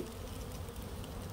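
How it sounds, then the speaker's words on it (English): Bees buzzing around a large, aggressive beehive, a steady dense hum of many insects at moderate distance and fairly faint. "It's like the biggest hive I have"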